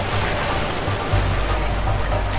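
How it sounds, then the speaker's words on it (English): Rushing waterfall in the video game A Way Out, a steady loud roar of churning water with no break and no voices. "This is definitely a waterfall, I swear."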